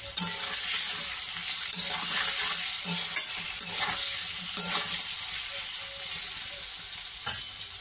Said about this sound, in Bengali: এটা দিয়ে একটুখানি আলুটা লাল লাল করে ভেজে নিই